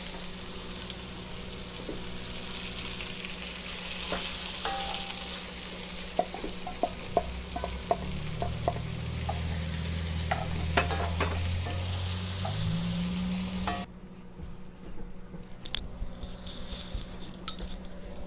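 Sliced mushrooms and cherry tomatoes sizzle steadily in a pan, with scattered utensil clicks and stirring scrapes. The frying drops away abruptly near the end, leaving a few faint clinks.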